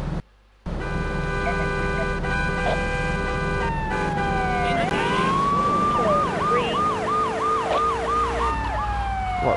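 A police car siren in the video game Grand Theft Auto 3 wails loud and close, rising and falling in a steady repeating sweep over game engine noise, after a brief silent gap at the start.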